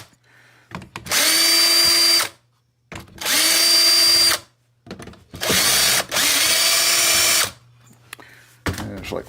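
A power driver whirs in three bursts of about a second each, backing screws out of a Makita saw cover, loud and close, with faint handling clicks in the gaps between bursts.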